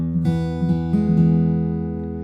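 Four fingerpicked acoustic guitar notes on the 4th string ring out one after another, each plucked clearly and left to sustain and fade.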